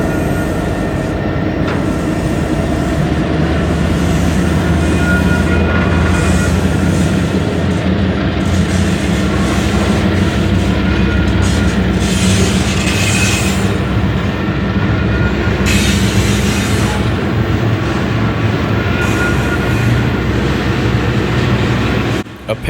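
Freight train ZLT G2 creeps in slowly, mid-train distributed-power locomotives close behind the head end, with a loud, continuous rumble of engines and rolling cars throughout, wheel squeal and clatter layered on top.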